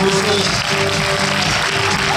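A premiere audience claps steadily for actors Gérard Jugnot and Bernard Lecoq, a loud continuous roar of hands with a voice speaking over it.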